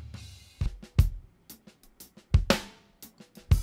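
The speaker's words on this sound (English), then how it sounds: "I'm just going to mess around with using this dry snare with the overheads mixed in with it" Dry snare drum mixed with overhead and room microphones in a drum groove: punchy, close snare cracks among deep kick thumps and cymbal wash, with natural room ambience and no talking.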